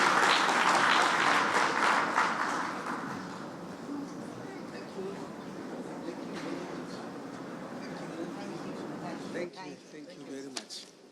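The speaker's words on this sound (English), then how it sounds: "just one more round of applause for our distinguished speakers here with us today" Audience applause fills a ministerial conference plenary hall on ending tuberculosis, loud and dense at first, then thinning into scattered clapping, with a voice speaking over the fading claps near the end.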